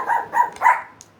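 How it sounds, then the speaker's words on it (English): A dog named Sophie barks three times in quick succession, sharp and fairly close, each bark evenly spaced, then falls quiet. "Sophie, no barking."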